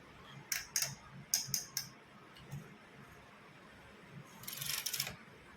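A sewing machine stitches a button strip on a sweater in short bursts of rapid ticking, with two quick runs, a quieter pause, and a longer, denser run near the end, close and fairly soft.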